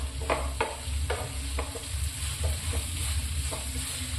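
Onions sautéing with salt in coconut oil and oil left from frying fish, a steady close sizzle broken by regular scraping strokes of a stirring spoon, with no talk.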